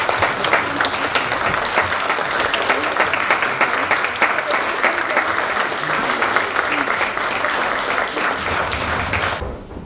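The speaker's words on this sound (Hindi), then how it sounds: "आपसे गुजारिश है कि इस क्रिकेट लेजेंड का खड़े होकर अपनी तालियों की गूंज में पुरजोश इस्तकबाल करें" A large hall audience gives a standing ovation to Pakistani cricket legend Zaheer Abbas, dense, sustained applause from many hands at full strength for nearly ten seconds before cutting off abruptly.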